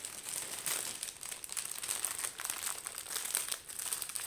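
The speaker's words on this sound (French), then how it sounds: "je vais remettre les diamants dans le sachet" A small plastic bag crinkles as tiny diamonds are slipped back inside, producing close, continuous rustling and crackling with light irregular bursts and no talking.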